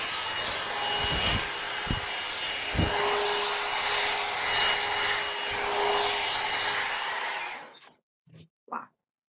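An Alan Truman blow dry brush hair dryer runs with a loud, steady close-up whoosh and shifting airflow, then cuts off abruptly near the end, leaving a couple of brief soft knocks.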